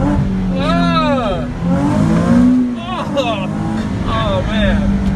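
A Nissan 370Z fitted with test pipes revs hard on a downshift, its loud rasping exhaust sweeping up and down in pitch, with people talking excitedly over the engine throughout.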